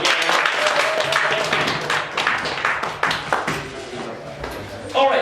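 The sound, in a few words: audience applause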